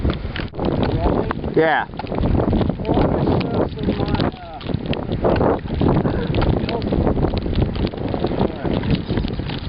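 Strong hurricane wind roars and buffets the microphone continuously, with a person speaking over the gusts.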